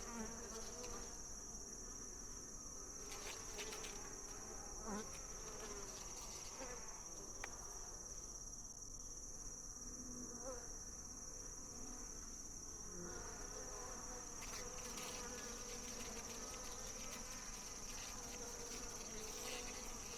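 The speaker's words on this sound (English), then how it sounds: "the heat from this hive will rise and help keep these bees warm in the winter" Honeybees buzzing around a small hive, a continuous soft droning hum with a steady high whine above it, faint and unbroken throughout.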